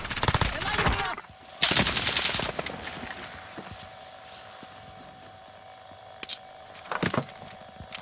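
Video game gunfire crackles in rapid bursts at the start and again near the end, with quieter mechanical rattles and background noise in between.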